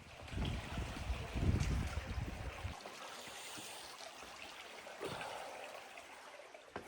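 Creek water flows and trickles in a forested canyon, a soft, close gurgling that is fuller at first and then thins to a faint, steady babble.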